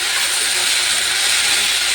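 Egg frying in a little oil in a pan, a loud, steady bright sizzle and hiss, continuous and close, with no talk.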